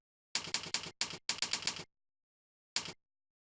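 Computer keyboard keys are pressed in a quick run of about eight sharp clicks, then a pause and one final press, crisp and close against silence while data is entered in an Excel spreadsheet.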